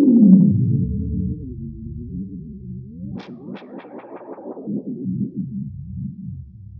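A Strymon Timeline delay pedal imitates tape delay oscillation runaway, producing a low, pitch-bending feedback drone with echoing sharp pings stacking up partway through, moderately loud and alone.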